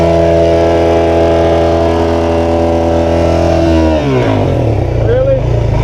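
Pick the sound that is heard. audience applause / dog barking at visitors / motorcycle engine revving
motorcycle engine revving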